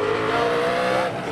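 A modified race car accelerates hard on the Huntly track during a pole shuffle event, a loud, steady engine roar with rising pitch and a brief dip near the end, no speech.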